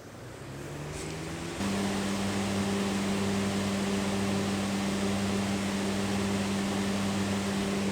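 A Crompton Optimus 100 air cooler switches on at its first mode, the fan spinning up into a steady, close, even whoosh with a low motor hum that holds unchanged.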